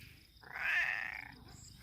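A hungry cat gives a single drawn-out meow, fairly faint and close, with no other voices around it.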